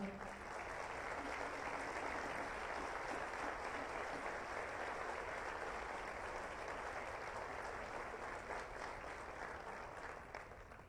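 Audience at a tribute ceremony and book presentation applauding an honoree, a sustained, even round of clapping that stays full for about ten seconds before easing slightly at the end, heard from across a hall.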